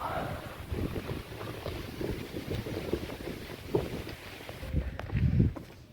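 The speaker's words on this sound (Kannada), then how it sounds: "ಗಾಳಿ ಸೌಂಡ್ ಅದ್ಭುತ" Wind gusts across the rocky slopes of Shivagange hill on a trek, a steady rushing buffet against the microphone with low rumbling swells and no talk.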